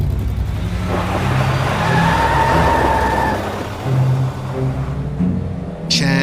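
A car speeds away at night in a zombie story scene, its engine roaring loudly with squealing, skidding tyres throughout and a sharp screech near the end.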